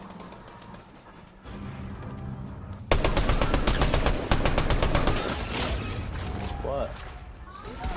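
Fortnite gunfire rattles in fast, loud volleys of rapid shots that build and continue under the steady game background, while a player speaks briefly.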